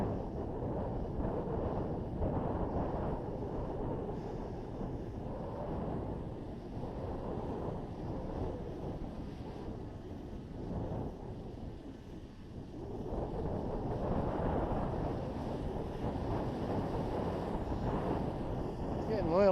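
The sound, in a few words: wind blowing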